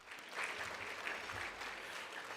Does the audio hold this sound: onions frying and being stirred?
no